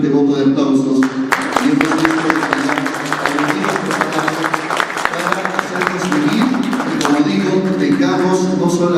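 An audience breaks into loud, sustained applause welcoming a speaker at a talk, dense clapping that fills the room for several seconds, with a voice speaking over it.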